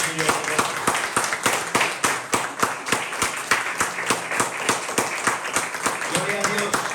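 Clapping breaks out in a church service, fast and close with sharp regular slaps over a steady bed of applause, and faint voices can be heard underneath.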